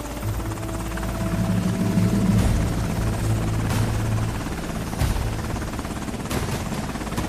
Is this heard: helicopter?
yes